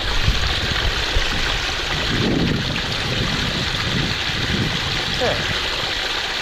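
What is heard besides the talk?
waterfall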